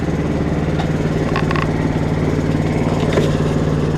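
An 11hp Honda engine fitted to a 1959 Case 700 tractor idles close by, with a loud, even, low chugging throb that holds steady throughout.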